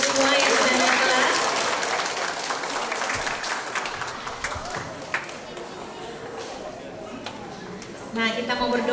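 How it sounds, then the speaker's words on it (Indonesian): A church congregation at a Sunday Advent service claps for the children who moved up a grade, a dense burst of applause that is loudest at the start and slowly thins, with some talk mixed in near the end. "Mari tepuk tangan buat anak kita semua yang sudah naik kelas."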